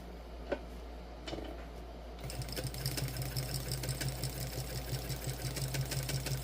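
A sewing machine runs steadily while stitching a Zuri crossbody bag, starting after a couple of quiet clicks and then buzzing in a fast, even rhythm over a low hum.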